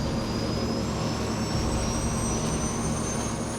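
A jet airliner rolls down the runway and lifts off on its takeoff run, its engines roaring steadily and loudly throughout, with a rising high-pitched whine layered over the broad rumble and no voices.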